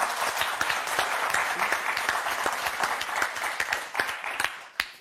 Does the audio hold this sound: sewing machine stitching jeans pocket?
no